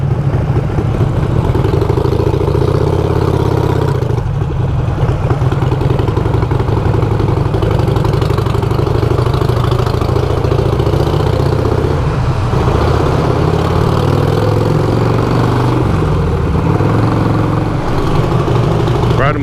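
A Ducati Panigale engine runs steadily and loudly for the whole stretch, a continuous close rumble with no break.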